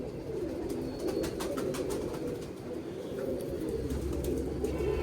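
Soft, low pigeon cooing rolls on steadily, with faint rustling and brief clicks over a constant murmur of background noise.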